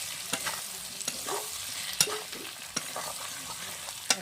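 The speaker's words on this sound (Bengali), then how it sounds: "এখন আমি আলু বেগুনটা দিয়ে দিচ্ছি, দিয়ে একটু নাড়াচাড়া করে" Potato and eggplant pieces fry in hot oil with a soft, even sizzle, broken by sharp clacks and scrapes of a spatula stirring them in the pan.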